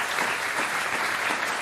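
A French TV studio audience on the talk show On n'est pas couché applauds a musician. The clapping is brief, dense and even, with no talking over it.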